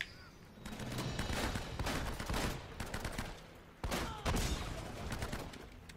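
Bursts of rapid gunfire in the video game Uncharted: Drake's Fortune, dense crackling volleys sounding close, pausing briefly and then resuming with louder shots.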